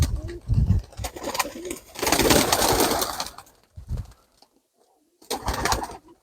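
Pigeons in a dovecote coo and rustle close by, with bursts of wing flapping between the calls and a quiet gap before a final flurry.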